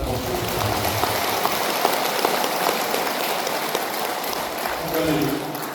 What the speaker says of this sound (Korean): 수고하신 우리 형제를 뜨거운 찬탄 박수 부탁드립니다.